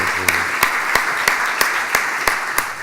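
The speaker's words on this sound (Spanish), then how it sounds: "brindarle un fuerte aplauso" Loud applause from the audience at an association luncheon honoring a minister, a dense steady wash of clapping with sharp regular claps standing out above it for a few seconds.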